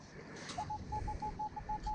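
A metal detector sounds a repeated high, steady beeping tone on a riverside beach over black sand, about eight short even pulses on a fairly loud wind and ground-noise background.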